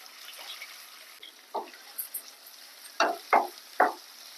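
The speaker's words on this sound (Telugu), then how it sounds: "ఇప్పుడు కట్ చేసుకున్న ఉల్లిపాయ ముక్కలు పచ్చిమిర్చి ముక్కలు వేసుకొని ఫ్రై చేసుకోవాలి" Chopped onion and green chilli dropped into hot oil in a pan, giving a faint background sizzle punctuated by several short bursts of crackling and stirring toward the end, close by and without speech.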